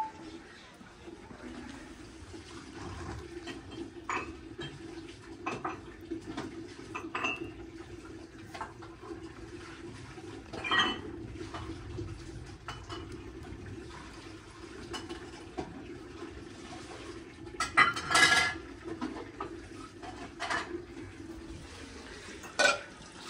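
Dishes, pots and pans being washed at a village home, with clinks of metal utensils and running water scattered through a steady background, sporadic louder clatters near the end; a voice speaks intermittently.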